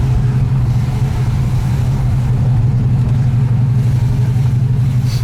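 A Ford GTHO Phase 3 tribute's engine, built to original Phase 3 spec with matching carburettors and camshafts, drones loud and close under acceleration, a steady low rumble with constant pulsing and no talk.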